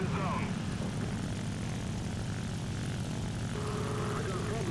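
A propeller fighter plane engine drones steadily in the War Thunder arcade battle game, a loud, even roar that runs unbroken throughout.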